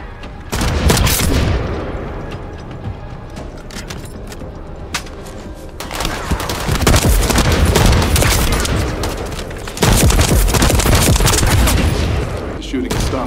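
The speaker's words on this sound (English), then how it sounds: "Shooting has stopped, I see." Heavy gunfire in the shooter game The First Descendant, loud repeated bursts and booming shots stacking into a continuous barrage with brief lulls.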